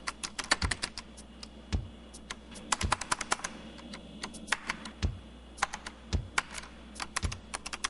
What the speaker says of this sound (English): After a while, the keyboard on my computer at work started to feel mushy.